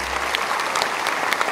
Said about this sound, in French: peut les applaudir bien fort.